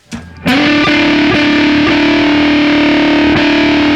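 Electric guitar driven through an Anasounds Feed Me fuzz pedal, a soft muted pick then a loud sustained fuzzy chord ringing out with a few re-struck accents, alone and close.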